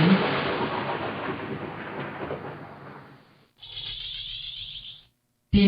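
A cannon fires in the 1996 PC game Fire Fight with a loud, sustained rumbling blast that decays over about three seconds, then a shorter buzzy burst and a final sharp hit.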